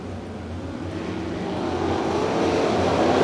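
Sprint cars racing four wide on a dirt oval, a steady loud engine roar that swells gradually as the pack approaches, with no talking over it.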